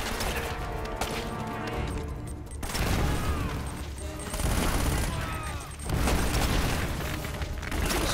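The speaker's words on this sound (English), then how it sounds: "Explosions everywhere" Explosions and gunfire in the Uncharted video game, a continuous loud barrage of booms and rattling shots with rumbling blasts swelling and fading throughout.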